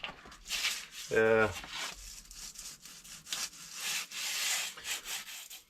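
A steady scratchy rubbing of sandpaper on a model steam engine column, back-and-forth strokes close by, with a brief hum partway through.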